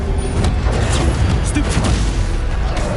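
Incendio fire spell cast in Hogwarts Legacy, a dense burst of crackling, roaring blast noise with heavy low rumble, loud and sustained for about three seconds amid other game effects.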